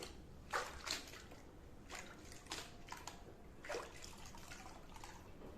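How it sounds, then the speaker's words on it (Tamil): A mop is swished around in a bucket of water mixed with floor cleaner, producing faint, intermittent sloshing and dripping splashes. "இப்போ அது வந்து மாப்பை உள்ளே விட்டு லைட்டாக மிக்ஸ் பண்ணிக்கோங்க."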